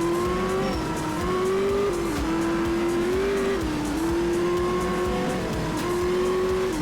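Throaty rally car engine from the racing game Art of Rally, revving steadily with shifting pitch and brief dips between gear changes, loud and continuous throughout with faint tire noise underneath.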